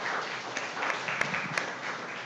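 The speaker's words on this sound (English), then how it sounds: "Please give them a big round of applause." An audience at a chef showdown event claps in steady, dense applause that holds at an even level throughout, with a few sharper individual claps standing out.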